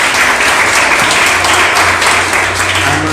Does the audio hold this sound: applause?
yes